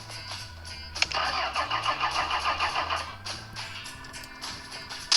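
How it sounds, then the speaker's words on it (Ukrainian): A car with a failing starter in the Retro Garage mechanic game cranks in a steady rhythmic churn for about two seconds without catching, then settles into a lower, softer mechanical hum, close and with no talking. "першим клієнтом ніяк не заводиться. Думаю, накрився стартер."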